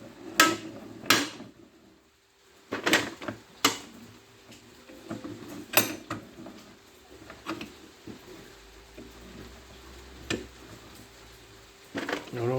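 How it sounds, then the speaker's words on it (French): A brass fitting clamped in a vise and pulled from a salvaged gas storage water heater: sharp metallic knocks and clanks at irregular intervals, close and moderately loud, with quieter handling noise between them. "Alors il faut bien le coincer à l'étau. Voilà. Et on tire."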